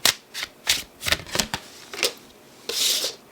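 Tarot cards are shuffled by hand in a series of quick papery riffles and slaps, close and fairly loud, ending with a longer whooshing shuffle.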